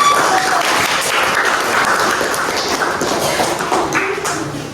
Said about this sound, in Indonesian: Tepuk tangan untuk diri semua.